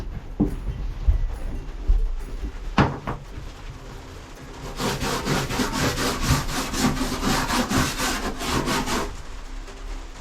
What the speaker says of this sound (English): So I'm gonna give it a sand and get all this rust and junk off.